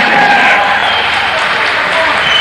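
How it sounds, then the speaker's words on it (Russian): Enthusiastic audience applause greets a performer walking onto a television variety-show stage, a dense steady wash of clapping that holds at full strength throughout. "когда твое появление на этой сцене встречает такими бурными аплодисментами"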